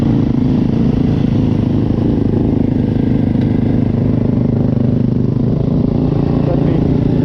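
Yamaha YZ250F dirt bike engine running loud and close, a steady continuous drone throughout with no clear rev peaks and no talk.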